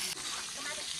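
Elephant apple pieces fry in very hot oil, giving a steady faint hiss and sizzle for about a second with no break.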